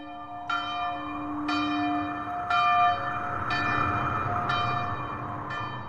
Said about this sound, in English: send me those bells, Peter.